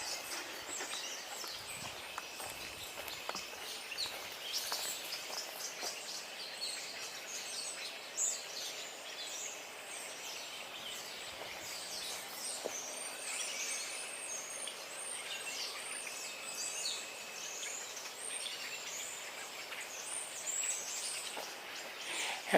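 Red-winged blackbirds calling outdoors: faint, scattered chirps and trills at a distance, repeating irregularly over a steady background hiss with no voices.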